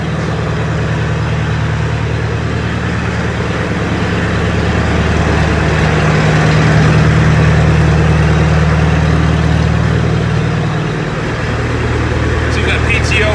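An old tractor engine runs at a steady idle, a loud, low continuous rumble that holds throughout with a slight dip near the end.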